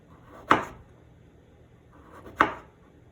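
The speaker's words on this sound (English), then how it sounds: "The last ingredient you will be chopping is the radish." Two sharp knife chops through a hard, solid radish strike a cutting board, about two seconds apart, close and crisp in an otherwise quiet room.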